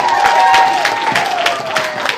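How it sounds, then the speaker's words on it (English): An audience at a Kick Butts Day event breaks into applause, a full, continuous crowd clapping heard loud throughout, with a faint sustained tone running beneath it. "Please give him a round of applause."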